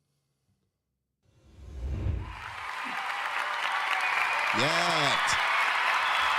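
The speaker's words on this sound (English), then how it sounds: "Thanks for the applause." Audience applause for a guest being welcomed on a motion design talk show, swelling from silence into sustained loud clapping and cheering, with a voice speaking briefly over it.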